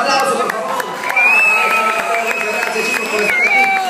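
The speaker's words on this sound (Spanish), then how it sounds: "¡Fuerte el aplauso, por favor!" Crowd cheering and applause at a jitterbug dance competition, loud and continuous, with a whistle-like tone and voices mixed into the noisy hall.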